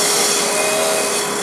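A Hope Woodturning Pro Sander works against a turned wooden bowl, giving a steady loud whirring hiss with a constant motor hum, close and unbroken.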